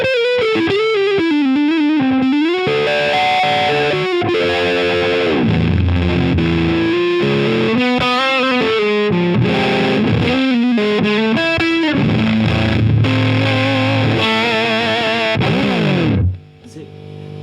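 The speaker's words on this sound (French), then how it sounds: "c'est une fuzz qui a beaucoup de gains" An electric guitar played through a high-gain fuzz pedal, a thick, saturated distorted tone with melodic lines and held notes, loud and continuous, ending in a sudden cutoff.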